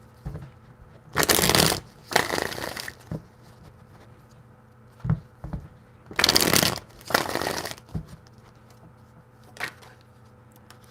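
Tarot cards are shuffled in a quiet room, coming in three crisp riffling bursts with brief taps and pauses between them.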